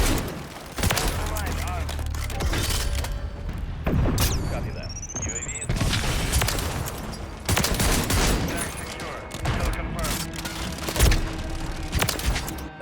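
Shotgun fire in Call of Duty: Modern Warfare 3 blasts out in repeated booming bursts, mixed with other game gunfire, explosions and a rising electronic whine, with a voice talking over much of it.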